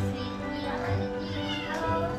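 A rescued stray cat meows repeatedly, close and clear, partly under a narrator's voice.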